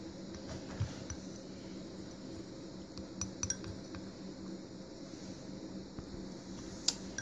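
Quiet clinks of a utensil against a glass container while melted crayon and coconut oil are stirred together, faint scraping with a few brief sharper ticks, close and soft, no talking.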